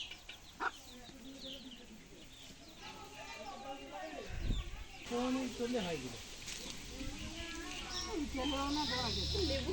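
Chickens cluck intermittently around a busy village scene in Bangladesh, with people talking throughout and some rustling and movement noise.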